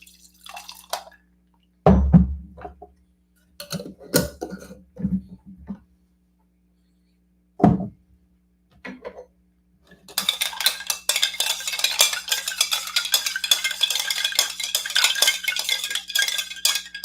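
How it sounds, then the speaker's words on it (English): Juice is stirred into a whiskey drink: a few scattered clinks and drips of glass and spoon, then a steady, dense fizzing and clattering stir that runs to the end, fairly close. "think I'm just going to add the juice straight in and give it a stir."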